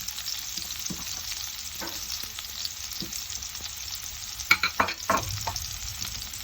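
Onions frying in a pan for Alexandrian sausage, giving a continuous soft sizzle with a few sharper scrapes and clinks of stirring near the end, fairly quiet and without speech.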